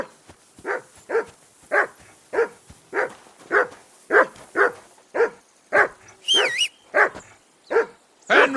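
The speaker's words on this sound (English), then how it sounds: "Henry, call that dog to heel." A dog named Mutt barks in Kingdom Come: Deliverance II, about fifteen evenly spaced, loud nearby barks in a steady rhythm over eight seconds, with a brief whine near the end.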